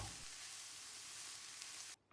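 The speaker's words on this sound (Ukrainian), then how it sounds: "Перемішуючи, готуємо до м'якості овочів, це займе 8-10 хвилин." Carrots and cabbage sizzle steadily in a hot pan, a constant hissing fry that cuts off abruptly near the end.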